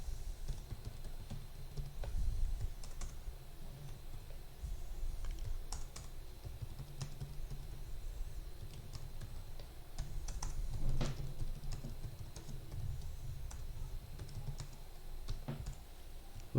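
Steady computer keyboard typing while writing program code, continuous soft key clatter with occasional sharper strokes, close and moderately quiet over low room hum, no voices.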